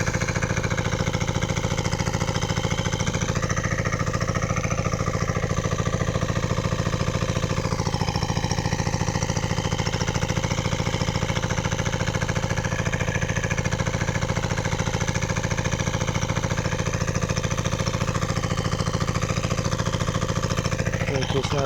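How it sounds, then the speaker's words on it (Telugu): An engine runs nearby to push water through a pipe, giving a steady, loud, unbroken mechanical drone with a constant pitch for the whole stretch. "ఇదిగో ఇక్కడైతే ఇంజన్ స్టార్ట్ చేసినాను నేను. ఇది ఇంజన్ అన్నమాట."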